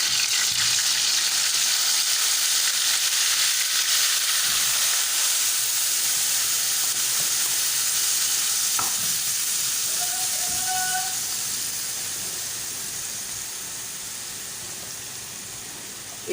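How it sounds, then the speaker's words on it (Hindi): Onion mixed with garam masala spices sizzles and hisses steadily in hot oil for a chicken kofta shahi curry, a loud continuous frying that eases slightly toward the end. "तेल के अंदर जब गरम मसाला तड़पने लगे ना, बिलबिलाने लगे"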